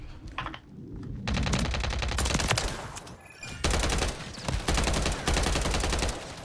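Rapid automatic gunfire from a zero-recoil Striker build in a video game rattles out in long, loud, sustained bursts, with a brief pause midway before the firing resumes.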